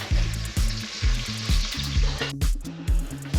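Ñora peppers and garlic frying in oil in a pan, a steady close sizzle broken by regular scraping strokes from stirring, with no talk.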